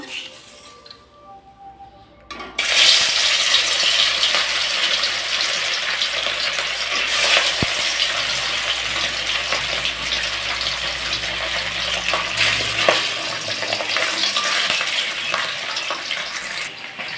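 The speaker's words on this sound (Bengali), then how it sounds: "কড়াইটা গরম হয়ে গেছে এখানে মাছ রেখেছি তো মাছগুলো ভেজে নেবো আগে" Eight pieces of rohu fish drop into a hot wok. After a brief quiet moment, a loud, continuous sizzle bursts up and holds steady, close to the pan.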